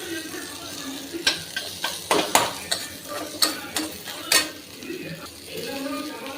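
Sharp clinks and scrapes of a utensil stirring karpooravalli (Indian borage) leaves sautéing in a pan, repeated in a loose rhythm over a soft background sizzle.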